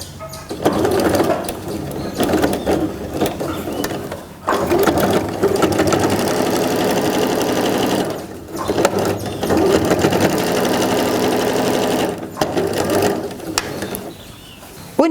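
A sewing machine stitches quilt blocks together for a Topázio quilt block, running in steady whirring bursts of several seconds with brief pauses between seams, close and fairly loud.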